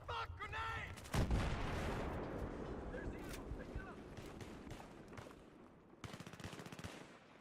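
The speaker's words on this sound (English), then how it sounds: "grenade!" A grenade blast goes off in the Battlefield 3 video game on PS3, a loud deep boom amid rattling machine-gun and rifle fire. Someone shouts over the gunfire.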